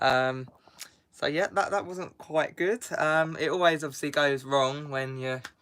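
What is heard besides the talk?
None of the usual background noises is heard.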